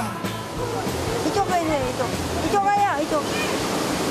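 A national park waterfall gives a steady, full-bodied rush of falling water that runs throughout, with people talking close by over it.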